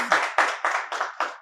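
Audience applause at a Gujarati book-introduction talk, a few bursts of clapping hands rising and fading in quick succession, fairly close and with no one speaking over it.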